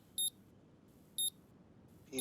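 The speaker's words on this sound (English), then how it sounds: "Beep, beep, beep." Two short, high electronic beeps about a second apart from a diagnostic tool in Car Mechanic Simulator 2021, clear over a faint low background hum.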